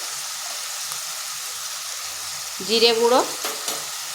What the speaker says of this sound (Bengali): এরপর ভালোভাবে মশলাটা কষে নিচ্ছি।